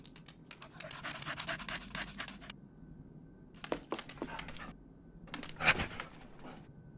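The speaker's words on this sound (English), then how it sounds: "Hello, little doggy. Who's a good boy?" A dog pants in the Murder in the Alps video game, a rapid breathy rhythm that comes in several bursts separated by short pauses, close and moderately loud.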